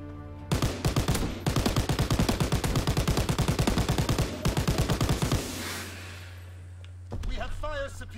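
Rapid automatic gunfire from Call of Duty WWII, near and loud, fires in long sustained bursts over steady engine-like rumble, then stops, with a short clip of game voice near the end.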